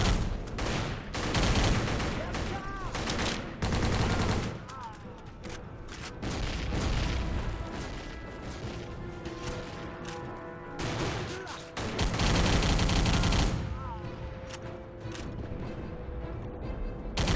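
Machine gun fire rips through waves of enemies in a war video game, long rattling bursts alternating with booming explosions and short gaps, loud and dense throughout.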